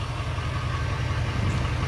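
A Duramax diesel engine in a 2006 Hummer H1 Alpha idles steadily nearby, a low, even rumble with no voices.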